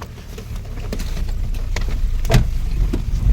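A car climbs a mountain road in Uttarakhand, its engine a steady rumble with a cabin hum. Scattered clicks, knocks and a sharper thud sound over it.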